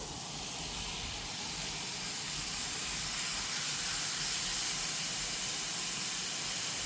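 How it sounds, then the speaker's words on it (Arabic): Minced meat hits a pan of hot oil, about two spoonfuls, for Egyptian goulash filling, producing a steady loud hiss of frying that swells slightly and holds with no talk over it. "ونحط كده معلقتين زيت، معلقتين اتنين بس، عشان ممكن اللحمه بتاعتنا تكون فيها نسبه دهون ولا حاجه. وهننزل بقى كده باللحمه"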